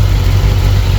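A freshly built LS-swapped V8, still breaking in, idles loud and close with a steady deep low rumble and even throb, no voices over it.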